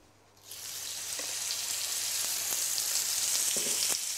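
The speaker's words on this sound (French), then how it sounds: "dans une poêle avec un filet d'huile, faites rôtir les brochettes 3 minutes sur chaque côté" Chicken yakitori skewers hitting an oiled frying pan, a sudden sizzle that bursts in after a short quiet start and then holds as a steady, loud hiss with a few small pops and clicks.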